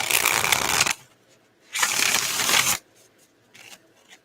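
Tarot card deck being riffle-shuffled, two loud crisp bursts of flapping cards about a second each, then a fainter short shuffle, close by with no talk.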